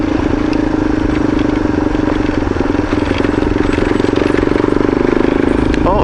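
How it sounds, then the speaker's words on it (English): A motorcycle engine ticks over at steady idle, close and loud, with a continuous low throbbing rumble throughout. "Bike is doing nothing more than an idle."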